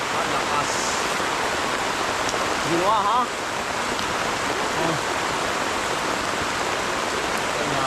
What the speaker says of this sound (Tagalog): Tudo po ang ulan.